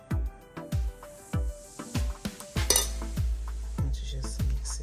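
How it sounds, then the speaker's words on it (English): A utensil stirring stew into spaghetti in a pot, giving a steady run of sharp clinks and scrapes against the pot at a regular, close rhythm. "put a little stew on our spaghetti here, so we can just mix it"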